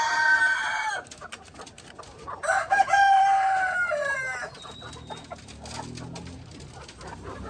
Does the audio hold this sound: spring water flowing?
no